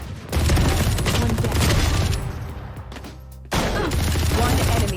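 Rapid automatic gunfire in the video game Valorant, a loud sustained burst that drops into a short lull and then resumes just as heavily.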